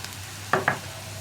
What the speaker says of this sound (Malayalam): വീണ്ടും 1 മിനിറ്റ് നമുക്ക് ഇളക്കി കൊടുക്കാം.